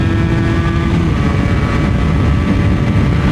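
A Yamaha TZR 80 RR motorcycle engine drones steadily close by, its pitch climbing slightly as it accelerates from a standstill.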